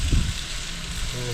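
Smash burger patties sizzling on a Blackstone griddle outdoors at an RV site, a dense close hiss of frying under a low rumble, with a brief murmur of voices at the start.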